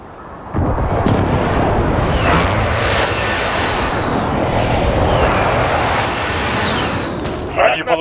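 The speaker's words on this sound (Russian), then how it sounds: "Союзник запросил точечный авиаудар." A precision airstrike in Call of Duty: Modern Warfare arrives as a loud, sustained roar of aircraft engines sweeping overhead. Explosions rumble beneath it, and a voice speaks over the din.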